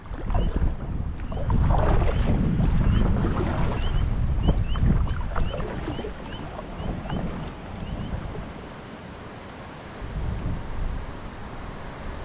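Rushing water roars steadily during a gusty solo canoe trip in Algonquin's northern section, loud and close, with wind buffeting and paddle or hull knocks mixed in and no talking.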